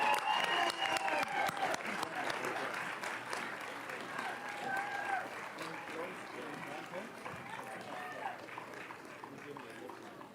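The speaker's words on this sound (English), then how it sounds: "Can we get another round of applause to them?" A crowd claps steadily in sustained applause at a Board of Education public session, a dense patter of hands with some voices mixed in, fading slightly toward the end.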